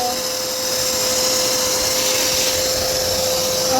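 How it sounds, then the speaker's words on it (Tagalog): A vacuum cleaner whirs steadily and loudly in a large, newly renovated bedroom of a house, a constant motor drone with a high whine that holds without a break. "dahil malaki ang kwarto ni Ate Maninay, kailangan talaga mayroong vacuum."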